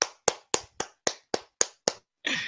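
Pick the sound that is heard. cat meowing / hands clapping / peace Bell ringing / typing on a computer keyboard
hands clapping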